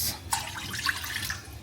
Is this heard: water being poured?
yes